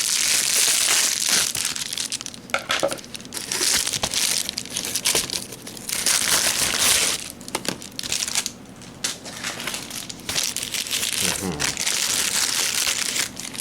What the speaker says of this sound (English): Now we get the scissors out.